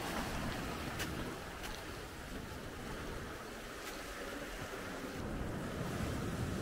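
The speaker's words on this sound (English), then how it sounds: "there's some waves breaking up here where the end of the rock shelf meets the water there" Ocean waves break against the end of a rock shelf in a continuous, full roar of surf with wind buffeting the microphone, heard alone without speech.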